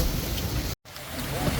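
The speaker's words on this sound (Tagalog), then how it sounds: "yan na naman ulan" Steady rain falls outdoors, a dense even patter that cuts out for a moment and then returns.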